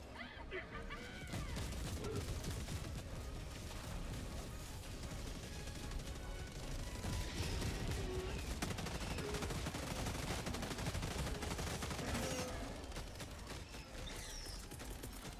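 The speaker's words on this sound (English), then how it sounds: "Throwing Gatlin Barrage on the bug breach." A Gatling Barrage stratagem in Helldivers 2 pounds a bug breach with dense, sustained rapid fire that rolls on without a break for the whole stretch, its blasts thick and continuous under a busy battle din.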